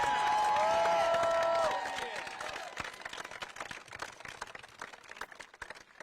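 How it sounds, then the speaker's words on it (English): A crowd on the Capitol steps cheers and applauds for Hakeem Jeffries, loud cheering and whistles at first that fade into scattered, continuing clapping. "Give a round of applause to the next Speaker of the House"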